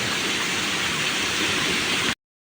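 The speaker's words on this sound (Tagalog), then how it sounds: "Dito na kami sa maliit na sapa nakayari." A small stream flows in a steady, dense rush of water, close and fairly loud, continuing unbroken until it cuts off abruptly just before the end.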